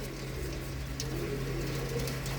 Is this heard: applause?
no